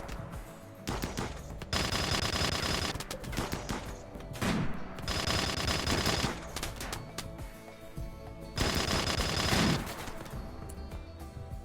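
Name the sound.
turret firing in video game RimWorld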